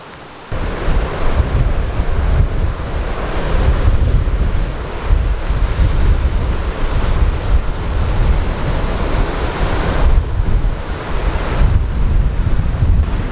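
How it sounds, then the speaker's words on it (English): Strong wind roars steadily across the microphone beside the sea in the Tuamotus, South Pacific, with surf rumbling underneath; loud and continuous, no voices. "Pretty windy. It's howling today."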